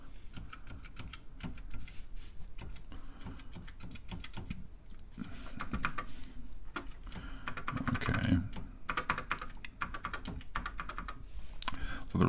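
Keys pressed on a rescued and cleaned old computer keyboard, a long run of sharp, irregular plastic clicks and clacks heard close up with little else around them.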